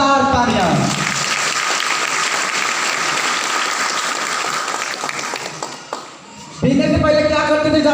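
An audience at a Safe Shop business meeting bursts into loud, dense applause that swells, thins briefly near the end, then returns, with voices and speech mixed in at the start and close.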